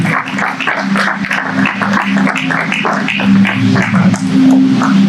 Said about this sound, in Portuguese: vamos aplaudir forte para a glória do Senhor